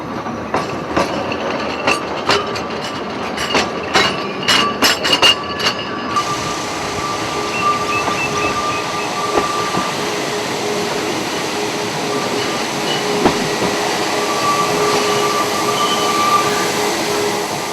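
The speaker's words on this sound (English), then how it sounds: "it's down this that our harvest train is shunted" A harvest train of rail wagons shunted slowly along a farm silo offloading track, with loud rhythmic wheel clacks and creaks at first, then a steady rolling rumble with squeals and clanks continuing throughout.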